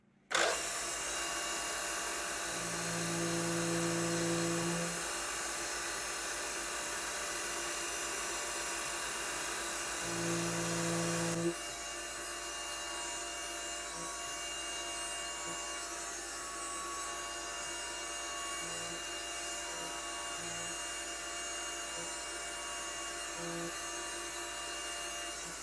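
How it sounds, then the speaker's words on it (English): Machine tool cutting a small feature on top of a desoldering tip part: a high, steady whining spindle drone with intermittent lower cutting tones, its pitch dropping slightly partway through. "Now we can pull the tool back when we machine the small aisle feature here on top."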